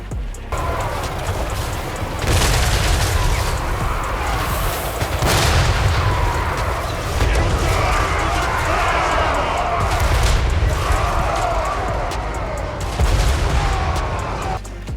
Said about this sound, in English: these whirlwinds right here, the bombers, whew, man, they do some damage